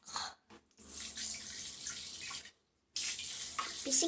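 Rushing water pours in short bursts, stopping and starting, then a longer gush after a brief silence, close by.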